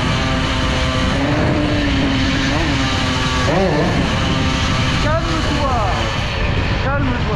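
A motorcycle with a Stage6 MK2 engine revs loudly and close, its droning pitch climbing and dipping in repeated throttle swells over a continuous running roar.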